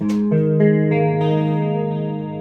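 A few electric guitar notes through a BOSS ME-80 ring out with a shimmering, doubled chorus tone and trailing delay repeats, sustaining and slowly fading, no voices.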